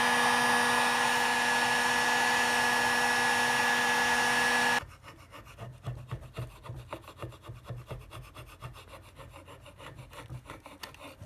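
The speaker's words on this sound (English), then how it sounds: "I'm gonna see if I can use this heat gun to scrape off the old" An electric heat gun blows a steady loud whine with a tonal hum for several seconds, then cuts off and gives way to rhythmic scraping strokes as old varnish is stripped from a wooden boat tiller, close and without talk.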